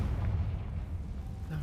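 A low rumbling blast from the Confringo fire spell in the video game Hogwarts Legacy, a deep booming explosion sustained through the short moment with a voice faintly present.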